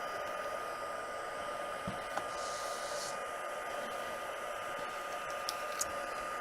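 A heat tool blows steadily across a crafting desk to clear off excess dust, a constant airy whoosh with a faint tonal whine, close and alone, with a few small clicks near the end.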